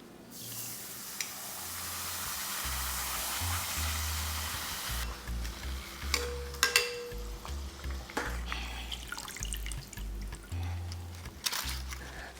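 An egg roll wrapper fries in hot oil into a crunchy taco bowl shell, giving a steady close sizzle with bubbling and occasional clinks of a utensil against the pan, no voices.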